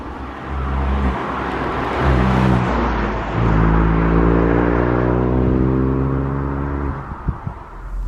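Ford Fiesta ST Mk8 engine heard from inside the car while driving, a steady loud drone with rising revs through the gears, a brief shift dip and a few small knocks near the end, no talking.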